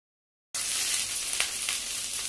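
Fresh tender leaves roasting in a hot pan give a steady, fairly quiet sizzle that starts abruptly after a short silence, with a few faint scraping stirs, no voices.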